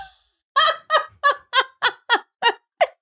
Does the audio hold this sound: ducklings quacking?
yes